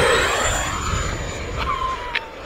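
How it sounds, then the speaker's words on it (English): Loud, close whine and rushing roar of an E-flite F-16 Falcon RC jet driven by an 80mm EDF inrunner motor on 6S power, holding steady with a high tone that slowly falls, plus a couple of brief clicks near the end. "That's not sound effects. That's an 80mm EDF in runner motor, baby. On 6S power."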